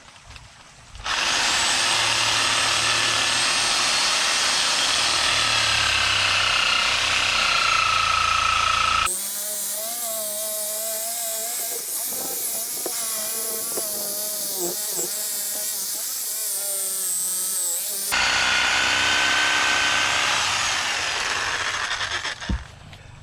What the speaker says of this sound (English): So first thing we're gonna do is go around this bush with the sawzall and cut the